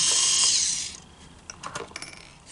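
A small power screwdriver whirs briefly while backing screws out of a plastic Linkimals whale toy, followed by light clicks and rattles as screws and parts are handled up close.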